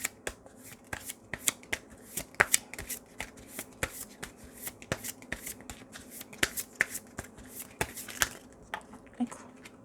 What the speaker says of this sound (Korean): 이제 꽃 카드 한번 뽑아볼게요.